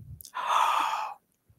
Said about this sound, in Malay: So kita tarik nafas dengan mulut.